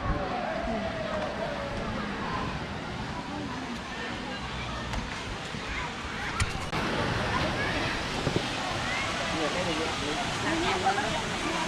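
Ta-Yai waterfall in Thailand rushes with a steady, loud broadband roar throughout, with people talking nearby under the water noise.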